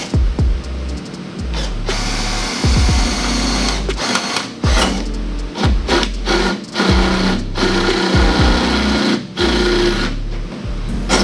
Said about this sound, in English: And then we'll go drill that.